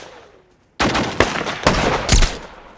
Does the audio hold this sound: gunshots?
yes